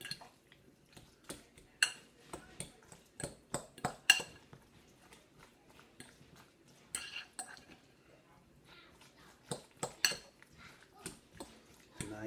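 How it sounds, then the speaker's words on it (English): Fork mashing avocado against the side of a bowl for guacamole makes repeated sharp clicks and taps in irregular bursts over a quiet background, close and fairly soft. "just begin to mash them against the side of the bowl with the fork"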